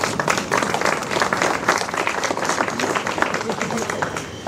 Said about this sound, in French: on peut vraiment l'applaudir.